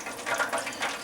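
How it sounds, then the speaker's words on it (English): Chicken wings deep frying in hot oil, a dense crackling sizzle with bubbly bursts, close and steady for a short moment. "so you can hear the wings deep frying in the background"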